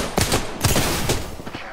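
Gunfire in the battle royale game Apex Legends, a few quick bursts of shots close by, crackling in short clusters over steady game noise.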